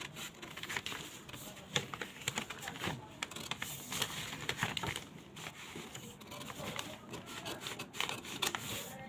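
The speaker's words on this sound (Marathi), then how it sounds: "सुरुवातीला पाठीमागचा मुंडा तो कट करून घ्यायचा आहे आपल्याला" Scissors cut blouse fabric along the back neck piece, a steady run of crisp snipping and rubbing close up that continues throughout with no talk.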